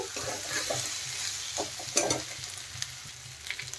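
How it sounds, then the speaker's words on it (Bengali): Cauliflower and potatoes fry with spices in a pan, sizzling steadily with intermittent stirring scrapes, close and alone. "মশলার সাথে দেখেন ফুলকপি আর আলু ভালোভাবে কষানো হয়ে গেছে।"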